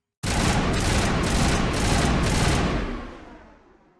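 A sustained burst of rapid automatic gunfire rings out in Mass Effect, loud and dense for about two and a half seconds before fading into a decaying echo.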